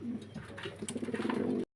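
Two pairs of pigeons, Black Shekhar and Satin, in a display at a Bangladeshi pigeon farm, coo in soft repeated low pulses that build steadily over a quiet background.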